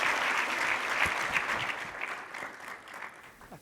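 Steady, dense applause from a conference audience welcoming a speaker, a full crowd clapping close and fairly loud, tapering slightly toward the end.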